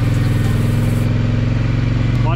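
A four-wheeler ATV engine runs steadily close by, a low pulsing drone with strong rumbling harmonics throughout, without pause.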